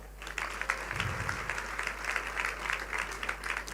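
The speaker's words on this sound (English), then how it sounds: "let's clap more" Audience applause at a Rotary District 9213 conference in Entebbe, Uganda, a steady wash of many hands clapping that carries on for several seconds at moderate distance, with a brief low thump near the start.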